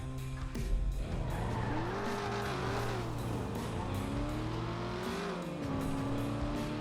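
Video game car engine revving and shifting pitch with tire squeal and skidding, loud and continuous throughout with no talk over it.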